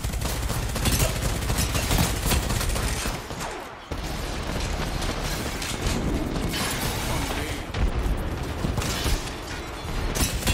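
Gunfire from a gun in the Control mode on the Olympus map of a shooter video game at night, a continuous dense run of rapid shots with mechanical clatter and no talking.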